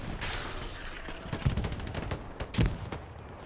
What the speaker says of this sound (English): there's artillery also coming down on this position in a second